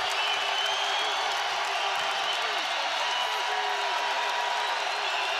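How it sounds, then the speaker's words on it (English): Loud, dense crowd roar filling a college basketball arena during a Nevada at Boise State game, sustained and unbroken throughout with squeaks and faint voices mixed in. "Crowd really getting into it now. Boy, they can really get loud in this arena."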